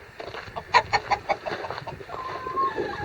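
Chickens cluck nearby in a quick series of short, choppy calls, followed by a softer drawn-out cluck.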